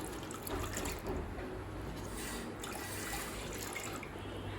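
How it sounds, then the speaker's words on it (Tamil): Two cups of milk poured into a pan of carrot payasam (carrot kheer), giving a steady liquid splashing and trickling that holds for several seconds at moderate, even loudness. "இப்போ 2 கப் பால் சேர்த்துக்கலாங்க."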